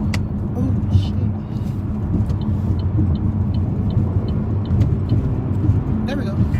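A car drives along a road following other cars, its steady engine rumble and road noise continuous and close from inside the cabin, with faint ticking clicks at regular intervals.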